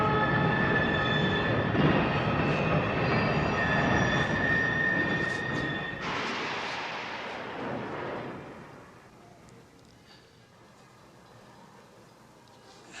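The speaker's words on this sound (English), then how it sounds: "a train getting louder to increase chaos" A train in a film excerpt swells into a dense, loud rumbling roar with high whistling tones over the first several seconds, then fades and thins toward a quiet tail.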